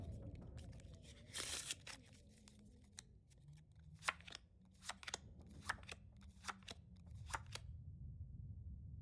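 Crisp card shuffling and riffling in the video game The Long Dark, a short dense burst followed by a string of sharp snaps and flicks, over a low steady rumble of background noise.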